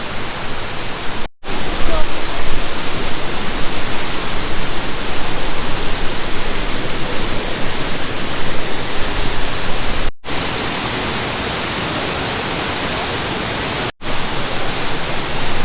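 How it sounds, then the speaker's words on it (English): Steady, dense roar of a rushing waterfall in Kodaikanal, India fills the whole clip, broad and loud with a few brief cutouts. "Oh, watch the waterfall. You see it?"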